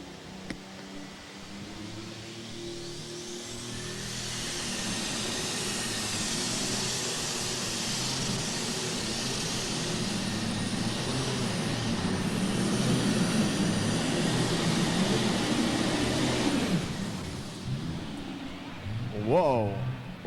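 Engine roar from the Triple Massey 3505 pulling tractor at a 1996 farm machinery show tractor pull, a sustained loud drone building over many seconds and then fading, with crowd ambience.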